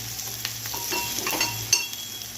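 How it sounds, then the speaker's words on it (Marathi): Tempering spices sizzle in hot oil in a pan for a potato bhaji like masala dosa filling, with spoon scrapes while stirring; a steady near crackle with a low hum underneath and one sharper clink toward the end. "मस्त असा फोडणीचा वास घमघमाट सुटलेला आहे छान अशी फोडणी बसलेली आहे"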